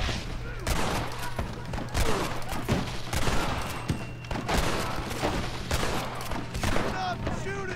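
Rapid bursts of gunfire in the Red Dead Redemption video game, many sharp shots crackling irregularly and loud throughout, with a low steady hum underneath.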